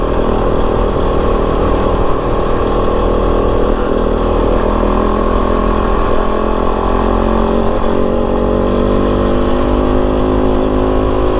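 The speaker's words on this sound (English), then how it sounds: "Very fast motorcycle." Kove 450 Rally dual-sport motorcycle engine running steadily loud and close while riding, a continuous droning hum with harmonic tones that shift slightly as the revs change, with no talking.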